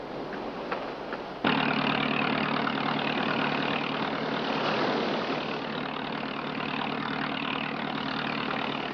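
Engine idling on a boat built in the style of Turkish war galleons, a steady low drone that starts abruptly and holds at an even, fairly loud level with no talk.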